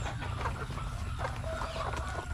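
Chickens clucking steadily on a backyard farm, several birds close by with soft repeated clucks and a low rumble of background noise, no talking.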